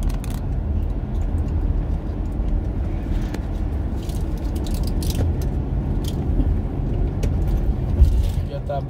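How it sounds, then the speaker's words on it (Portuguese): Trucks pass on the Anhanguera highway near Americana, São Paulo, Brazil, a constant low roar of heavy traffic with no clear gaps, and a person speaks over it. "Os caminhões passando."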